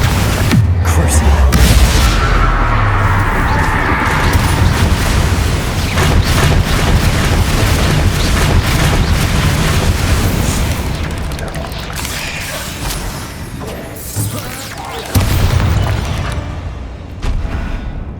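Spell blasts in Hogwarts Legacy fire off as booming bursts and rumbling impacts, loud and dense, layered over game music and combat noise with a brief lull near the end before another burst.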